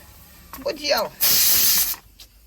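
A pressure cooker releases a loud burst of steam that hisses for nearly a second, with excited voices just before it and a quieter hiss trailing off afterward.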